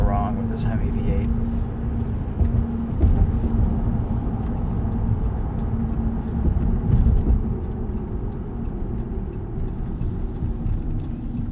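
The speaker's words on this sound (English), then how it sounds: "Smooth, nice and responsive, fast shifts. Can't go wrong with this Hemi V8." Low, steady engine hum from a 2019 RAM 1500 Rebel with a Hemi V8 on a night drive, heard from inside the cab with gentle swells and someone talking over it.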